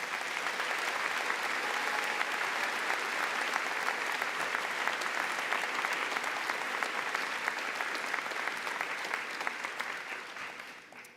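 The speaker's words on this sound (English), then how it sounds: "please join me in a round of applause for all of our local scholarship sponsors" A graduation audience of classmates, family and friends claps for local scholarship sponsors in a large hall, a dense, steady wash of applause throughout that thins slightly at the end.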